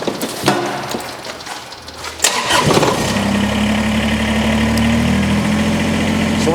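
A Kubota BX compact tractor with a loader is cranked over with a few clunks and sputters, then its engine catches and settles into a steady, loud, close idle that hums evenly for several seconds.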